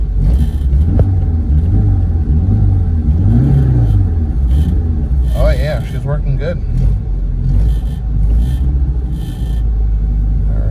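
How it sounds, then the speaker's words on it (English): A 2001 Mitsubishi Mirage engine fitted with a new coil-on-plug setup revs up and drops back several times, its loud rumbling drone steady beneath someone talking. "Let's give it some revs."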